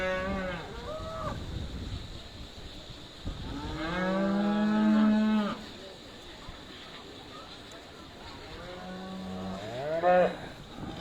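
Aberdeen Angus cattle low repeatedly around the show ring at the Great Yorkshire Show, with one long loud moo in the middle and shorter calls before and after, heard over wind and the hum of the crowd.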